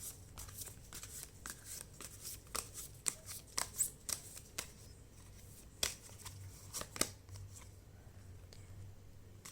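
Tarot cards shuffled and drawn from a deck, a run of short crisp papery flicks and slaps close by, irregular in rhythm, with soft pauses between and a faint voice in the background.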